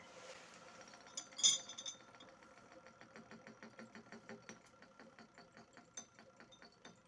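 Magnetic stirrer running during an iodine titration, a faint steady whirring with a regular ticking rhythm and an occasional glassy clink, alone and close.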